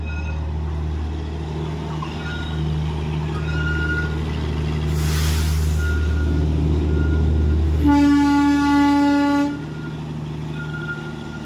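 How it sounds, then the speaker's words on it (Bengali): The Darjeeling toy train runs around the loop with a steady engine drone, a long loud whistle and a brief burst of hiss, then a second shrill horn blast before the rumble carries on. "এই ট্রেনটা এখন পুরোটা ঘুরবে।"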